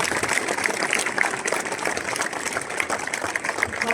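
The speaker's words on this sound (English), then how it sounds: "I think we need to give a round of applause to those who have organised this" Dense, continuous applause from a crowd at an outdoor Unionist and Loyalist coalition rally, steady and evenly sustained throughout with no talk over it.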